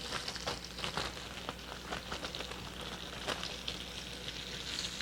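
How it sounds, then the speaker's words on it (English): Two chicken cutlets sizzle steadily in a hot pan for a weeknight chicken rosemary dish, with a dense, continuous crackle and occasional sharper pops close by. No one speaks. "So there we go, our 2 cutlets in there. Now as those start to cook"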